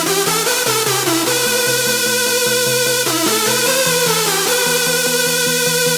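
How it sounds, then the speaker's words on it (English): Bright synth pluck chords repeat in a steady rhythm, the harmony shifting every few beats, loud and close with no voices. "Now you've got to add some rhythm with the use of pluck chord simulation here."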